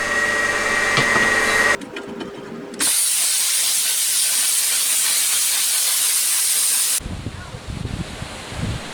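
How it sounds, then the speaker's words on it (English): A plasma cutter slices through metal with a loud, steady hiss lasting several seconds, set between shorter bursts of clatter and workshop noise. "I'm going to use my plasma cutter."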